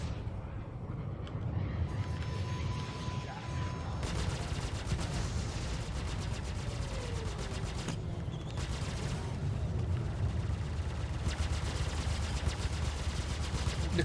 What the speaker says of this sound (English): So many missiles, man. I'm just getting missile pummeled.